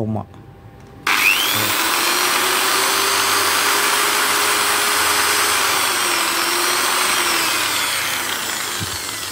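A LiFePO4 battery generator with a pure sine wave inverter switches on after a short quiet moment, then holds a loud, smooth, steady whine with a faint rising and falling tone, easing slightly toward the end.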